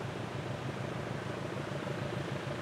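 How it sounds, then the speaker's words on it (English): A steady, distant rumbling drone of a train passing across a river in Chile, continuous and even throughout with no other sounds. "but it's a train across the river."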